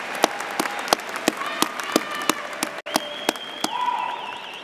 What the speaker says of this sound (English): graduates, please face the audience and receive their applause